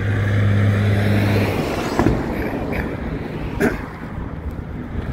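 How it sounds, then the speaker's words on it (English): Steady broadband rumble of passing highway traffic heard from inside a moving vehicle, with wind buffeting and a few brief thumps. "sorry about the road noise."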